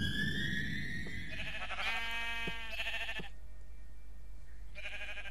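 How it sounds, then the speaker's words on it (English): Several sheep bleat in the Minecraft video game, overlapping wavering calls in bursts over a constant low hum, with brief gaps between them. "that's a lot of sheep. That's a ton of sheep."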